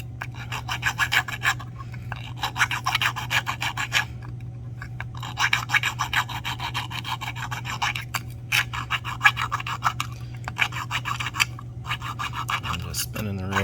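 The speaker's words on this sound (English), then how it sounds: "Spinning the ring, using that file to go all the way around, get rid of that burr" A metal file rasps around the edge of a copper pipe ring to remove a burr, in quick repeated strokes broken by short pauses, close and fairly quiet over a steady low hum.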